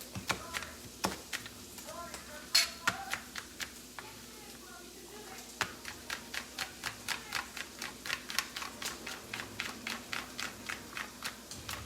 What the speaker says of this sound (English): So again, I'm just gonna dice that up.